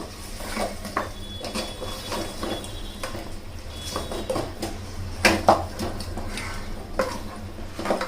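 Mutton paya masala with salt being sautéed in a pot, a steady soft frying hiss under repeated scraping and clinks of a metal spoon against the pot, with a few sharper knocks near the end.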